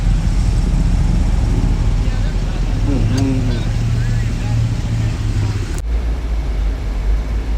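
A Pontiac G8 GXP's exhaust gives a steady, low, droning rumble while the car drives along, with a voice briefly heard over it.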